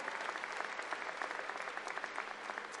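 A commencement audience applauds in a steady, full round of clapping with individual claps popping through, heard close and without talk.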